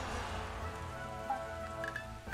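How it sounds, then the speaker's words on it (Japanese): Steady rain falls in the Sengoku strategy game Taiko Risshiden V, a soft continuous patter with faint tonal game sounds layered over it. "まだ雨降ってるから無理だな"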